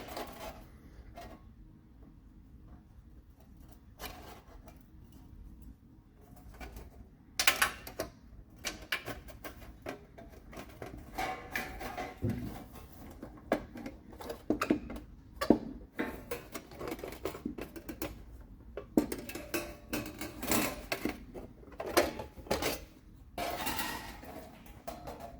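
Sheet metal being cut out for a homemade feed scoop, a close series of irregular snipping clicks and crunches that grow busier and louder partway through, with no talking.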